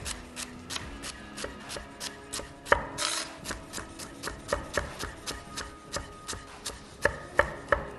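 A knife on a cutting board finely slices herb leaves in quick, regular chops with a clear rhythm, close and crisp, with a few louder strokes toward the end and no talking.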